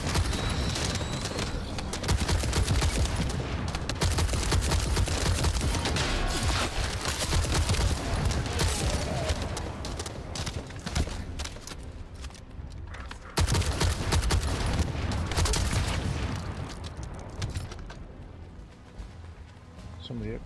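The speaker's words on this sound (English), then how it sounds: "The hip fire is honestly disgusting on these rifles too" Rifles hip-fired in the video game The First Descendant: dense, loud bursts of automatic gunfire with booming impacts, nearly continuous apart from a brief break, and a voice talking over it.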